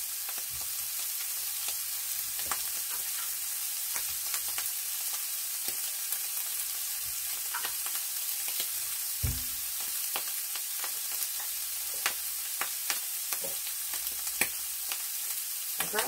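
Sausage sizzles steadily in a frying pan, a continuous bright crackle with scattered sharp pops and an occasional clink of stirring, close and alone.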